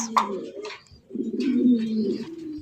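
Pigeons being sold as pairs from a farm give a short chirp and then a deep, rolling coo, heard close up.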